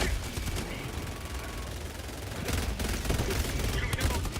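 Sustained assault rifle fire in a shooter video game, a dense continuous burst of rapid loud shots with no break, intensifying toward the end.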